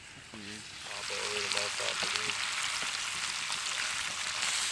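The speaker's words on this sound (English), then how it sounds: "we got the bacon sizzling over there." Bacon crackles and sizzles steadily over campfire coals outdoors in rain with a dense, hissing texture, while a voice talks briefly underneath near the start.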